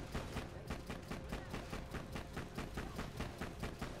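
Rapid automatic gunfire from a Bandit-made gun in Borderlands 2, a steady unbroken stream of shots at an even fast rhythm, fairly faint and continuous with no talk over it.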